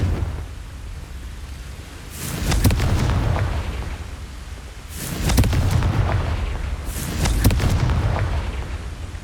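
The Confringo fire spell in the video game Hogwarts Legacy going off three times, each a loud booming blast with a rumbling, crackling tail, spaced a few seconds apart against a steady low background.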